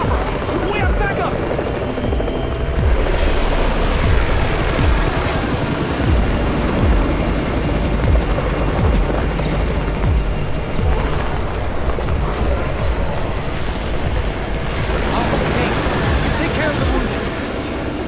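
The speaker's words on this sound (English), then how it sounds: "It's the Raven's chopper! We have backup!" A helicopter arrives in the zombie survival video game Undawn, a loud steady rotor drone with rumbling low thump that holds throughout, mixed with game ambience and voices talking over it.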